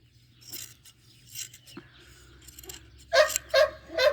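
A dog gives a few sharp barks and yips near the end, after quieter shuffling and scraping sounds, while sheep are being sheared.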